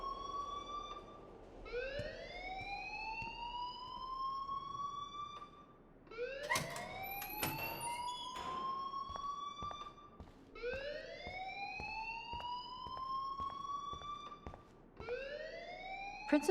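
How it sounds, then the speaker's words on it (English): A fire alarm blares in the video game Life is Strange, sounding as a loud, steady rising wail that sweeps upward and repeats about every four seconds, with a few sharp clanks between the cycles. "please turn off that alarm since that's your job"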